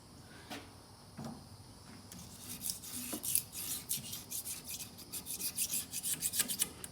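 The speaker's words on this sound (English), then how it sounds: "we're gonna take a little bit of coker cloth or soft sandpaper" Emery cloth or soft sandpaper rubbing a rear axle surface during a wheel seal replacement on a Silverado, Sierra, Tahoe or Yukon rear end. A few scattered strokes come first, then a quicker run of rhythmic rasping scrubs, close and moderately quiet.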